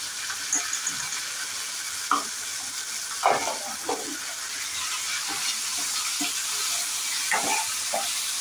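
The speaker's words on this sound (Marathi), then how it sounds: "तर आता हळद आणि मिठामध्ये चांगलं मिनिटभर परतून घ्यायचं।" Pieces of kupa fish with salt and turmeric sizzle in a pan for a fish curry, a steady frying hiss broken by occasional scraping stirs, close and moderately loud.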